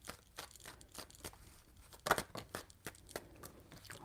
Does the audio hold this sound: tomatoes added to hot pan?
no